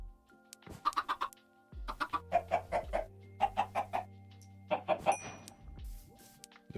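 Minecraft chickens cluck in several quick bursts of short, pecky clucks with a brief squawk, fairly close and clear over faint steady game background tones, with no talking.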